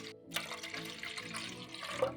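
Water pours steadily into a cooking pot in a continuous rushing splash, close and fairly loud.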